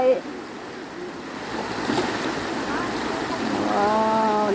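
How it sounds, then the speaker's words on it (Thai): Khlong Maduea waterfall in Nakhon Nayok, the source of the Nakhon Nayok river, pours with heavy, strongly flowing water, a steady loud rushing roar close by while a voice speaks over it. "น้ำเยอะมาก น้ำไหลแรงมาก"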